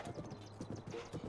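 Horse hooves clip-clop in a quick, steady rhythm in a video game, a short, fairly quiet burst with game sounds beneath.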